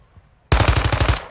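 An SMG fires on full auto in Call of Duty Warzone 2 on Ashika Island, a loud, close, rapid burst of evenly spaced shots that starts abruptly after near silence.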